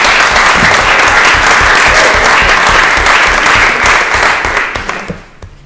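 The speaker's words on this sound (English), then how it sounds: "so give her a round of applause." Loud, sustained applause from a large audience, dense clapping that holds steady and then tapers off near the end.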